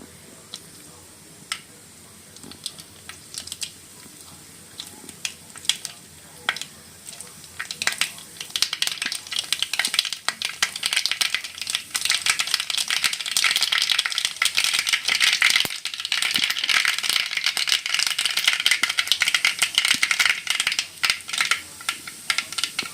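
Mustard seeds popping and crackling in hot oil while cooking a papaya thoran, sparse pops at first that build into dense, rapid sizzling crackle, with a voice talking over it.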